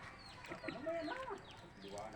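A chicken clucks during a mountain walk, giving a few close, quiet, warbling clucks over about two seconds, with people's voices nearby.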